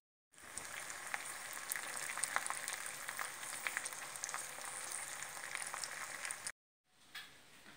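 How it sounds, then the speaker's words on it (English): Eggs fry in a hot skillet at a campsite breakfast, giving a steady close sizzle and crackle with small pops for several seconds before it cuts off briefly and resumes more faintly. "I'm going to fry some eggs in this same skillet"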